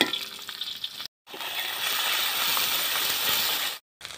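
Chopped garlic, ginger and green chilli fry in hot oil with a steady, loud broadband sizzle, broken by two brief silent gaps.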